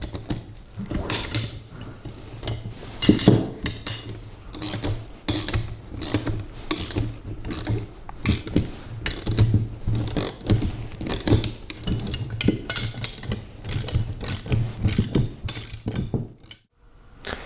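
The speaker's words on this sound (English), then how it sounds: "you're going to go ahead and tighten down those bolts" A 3/4 inch wrench and adjustable wrench tightening bolts on the bracket of an EGO mower CheckMate striping kit, rapid ratcheting clicks in repeated bursts, close and crisp, with brief pauses between runs.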